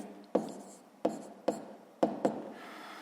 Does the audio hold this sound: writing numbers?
yes